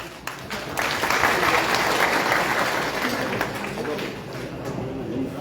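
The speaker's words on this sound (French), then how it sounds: "Ah, les Nyé, on les applaudit." Large audience applauding in a hall at an association ceremony, a sustained broad roar of clapping that swells and holds steadily, with voices murmuring underneath.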